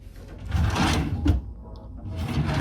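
A drawer in a Carnival Panorama cruise ship cabin slides open and shut, a broad rumbling scrape with a sharp knock near the middle, close and moderately loud.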